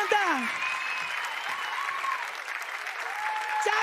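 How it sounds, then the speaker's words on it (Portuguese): A TV studio audience applauds steadily throughout, with cheering and whooping voices rising over the clapping. "Aplausos. Valeu, banda!"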